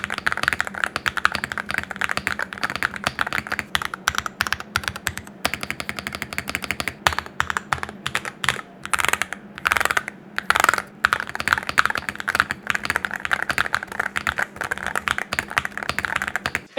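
Fast, continuous typing on a Monsgeek M1 V5 TMR mechanical keyboard, close-up. Dense streams of thocky, slightly clacky keystrokes come with occasional louder bursts and no talking.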